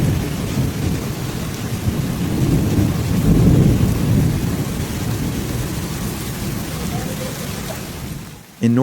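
Heavy thunderstorm over the Houston area of Texas, with a steady roar of downpour and deep rolling thunder swelling in the middle before easing, loud and close throughout with no voices.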